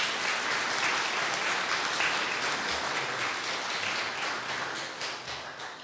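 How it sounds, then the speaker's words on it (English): Children and a church congregation clap together at a Sunday service, a steady, dense round of applause that holds fairly loud for about six seconds before easing off slightly at the end. "Do you think you deserve a clap?"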